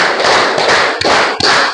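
A classroom of students claps together in an ice-breaking game, loud sharp group claps landing in a quick rhythmic burst close by, with no talking.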